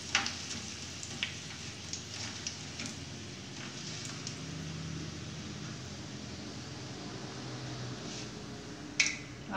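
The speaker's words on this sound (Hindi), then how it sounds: "अब ये फ्राई हो चुकी है" Moong dal frying in hot oil, a steady soft sizzle with faint crackles and occasional sharper pops, fairly quiet and continuous throughout.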